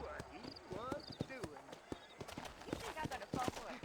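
Horses in the Western video game Red Dead Redemption: repeated hoof clip-clops and whinnies close by, with someone speaking over them.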